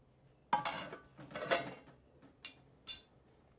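Milk mava made from spoiled milk is stirred in a pan, with a few distinct metallic scrapes and knocks of the spoon against the pan, spaced apart in a quiet, close kitchen.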